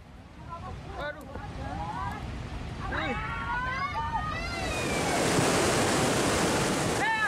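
Volcanic lahar floodwater from Mount Semeru roars down a river channel at Lumajang, East Java, where mining trucks are caught in the flow; a steady broadband rushing torrent swells louder toward the end, with faint high calls over it.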